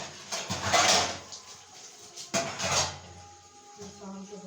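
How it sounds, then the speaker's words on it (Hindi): Dishes and pots being hand-washed with dish soap in the evening, clattering and knocking in two busy bursts with quieter rinsing between, and a faint voice at times. "शाम के बर्तन धो रहे हैं।"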